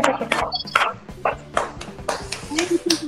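Children and families clap for a child at a virtual preschool Independence Day celebration. The claps are irregular and sharp, spread across the whole stretch, and voices talk over them.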